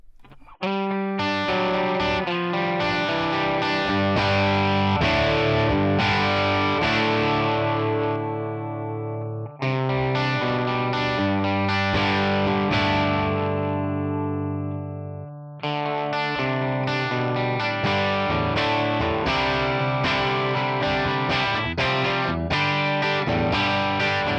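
Les Paul electric guitar with humbuckers played through a Tonex One bright amp capture, heard as distorted, effected chords and riffs in three loud phrases separated by brief pauses, with no talking.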